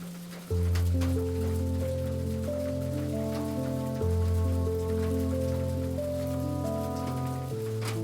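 Steady hush of rain falling on a mountain's stone surface, continuous and soft, with a gentle lullaby melody and sustained tones playing over it.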